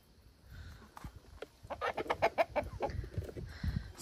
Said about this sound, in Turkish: Siz de biraz tavuklarınızı seyredin.